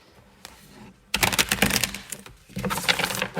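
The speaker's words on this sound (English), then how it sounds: "I'll go ahead and shuffle live." Tarot cards are shuffled live by hand, first as a few faint taps, then as bursts of dense crisp riffling and snapping that are close and loud, with a short pause between them.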